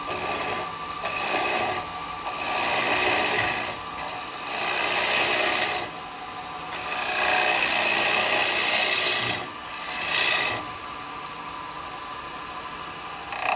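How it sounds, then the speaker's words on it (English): A 3/8 spindle gouge cutting wet wood on a lathe while turning a hat form, a steady close hissing rasp in several long passes separated by short pauses, with no talking. "most of this will be done with the 3/8 spindle gouge"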